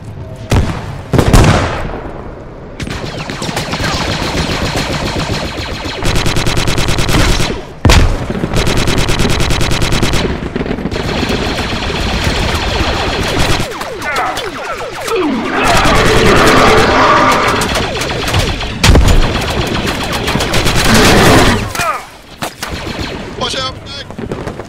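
Dense gunfire in a Star Wars Squad mod: rapid automatic bursts, heavy booms and overlapping shots fill the space loudly, with brief pauses between volleys and voices faintly mixed in.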